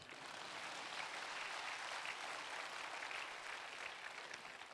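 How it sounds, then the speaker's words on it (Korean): A church audience claps steadily in a dense burst of applause, moderately distant and even throughout. "이럴 때 좀 박수가 나와야 되는데"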